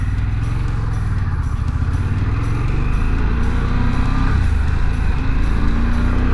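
A motorcycle rides along a rural road in Nash County, North Carolina, its engine droning loud and steady throughout, close and continuous, with no talking over it.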